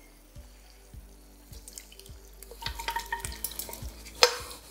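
Mutton pieces go into a pan with spices and are stirred. Rhythmic low knocks come first, then the sizzle rises with scraping and clatter, ending in a sharp metallic clink.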